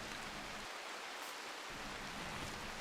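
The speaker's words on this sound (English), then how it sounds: "Still no break in the rain." Rain falls in a colony-building video game, a dense, even hiss of downpour that holds steady for a few seconds with no voices.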